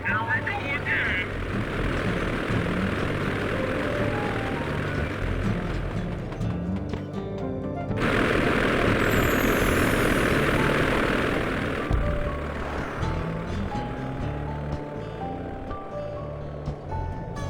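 A steady, loud engine drone from the ice plane in Sly 2: Band of Thieves runs throughout, layered with other game sounds and shifting slightly in tone midway.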